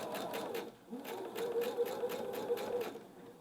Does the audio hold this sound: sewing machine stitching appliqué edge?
yes